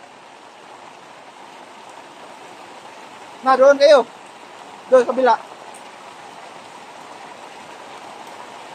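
Rain dripping through leaks in a shelter, a steady soft wash of falling water with people speaking briefly over it in two short bursts.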